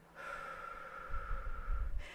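A slow, audible exhaling breath during a guided meditation flows out steadily for about two seconds, soft and close, with a breathy rush and a low rumble that swells toward the end.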